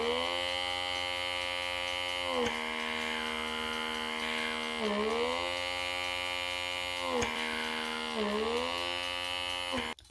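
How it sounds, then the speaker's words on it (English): A Voyor BR510 pore vacuum blackhead remover runs with its strong suction head, a steady close electric buzz whose pitch dips briefly several times as the suction catches on skin. "those few passes with the strong suction head"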